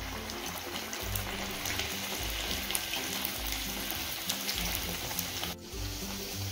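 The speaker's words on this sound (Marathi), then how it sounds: "मोठा गॅस करून एक एक करून तळून घ्यायची." Puris deep-frying one at a time in hot oil over a high flame, giving a dense, continuous bubbling sizzle with low rumbling swells, close up and steady throughout, with no voices.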